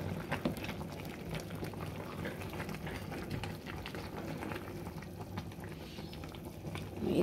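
A pot of braised pork leg with eggs, fish maw and mushrooms simmers steadily, a dense bubbling patter that carries on evenly throughout.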